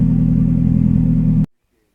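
A turbocharged Hyundai Tiburon engine roars close and loud, holding a steady low drone before it cuts off abruptly into silence.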